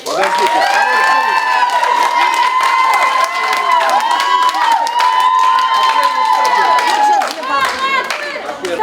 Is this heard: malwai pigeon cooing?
no